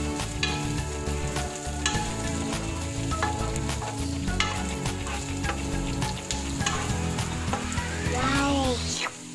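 Onions, lime leaves and lemongrass fry loudly in hot oil for an oyster sauce crab, a steady close sizzle with stirring scrapes and clinks throughout.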